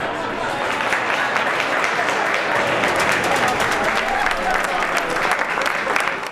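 Sustained, loud crowd applause breaks out at an unveiling ceremony, with dense clapping from a gathered audience that holds steady for several seconds before ending abruptly.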